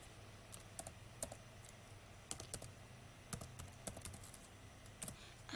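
Quiet computer keyboard keystrokes typing the ipconfig command, sparse and uneven clicks with an Enter press near the end, close to the microphone over a low steady background hum.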